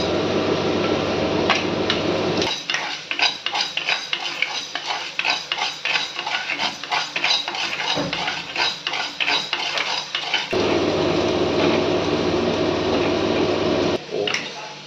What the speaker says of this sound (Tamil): அதுக்குள்ள நம்ம உளுத்தம் பருப்பை வறுத்துக்கலாம்